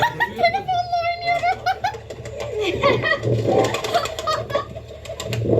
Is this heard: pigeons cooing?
yes